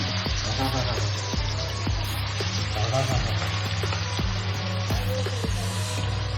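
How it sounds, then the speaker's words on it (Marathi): Spices fry in hot oil as the tempering for chicken sukka, a dense, steady sizzle broken by regular soft taps, with faint voices in the background. "फोडणी."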